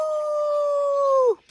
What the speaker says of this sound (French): T'as vu les loups, mon amour? Oh là là, c'est un loup.